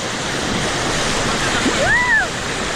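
Rushing water from waterfalls at an outdoor river tubing site, a steady broadband roar filling the whole clip, with a brief whistle-like tone near the end.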